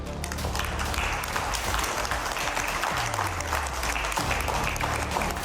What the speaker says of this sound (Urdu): G7 ممالک کے سربراہ تالیاں بجا کر خوشی کا اظہار کرتے نظر آئے